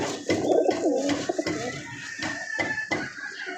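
Captured pigeons coo close by, a low warbling call followed by softer repeated coos against background noise and faint clicks.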